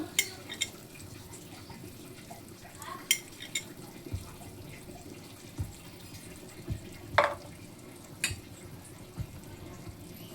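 Ghee going into a pot of chicken biryani brings a few soft spoon scrapes and clinks over low kitchen hiss, with a louder stir near the middle of the stretch and no voices.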